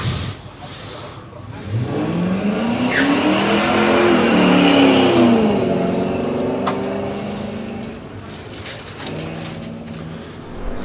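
A late-model Ford Mustang races up a hillclimb course, its engine note rising as it approaches and shifts up through the gears, loudest near the middle and then fading into the distance.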